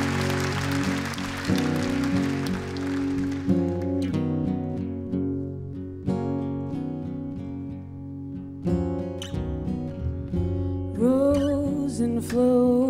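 An audience at a sports gala applauds a singer, a crowd's clapping fading out during the first few seconds as soft instrumental music begins and carries on alone.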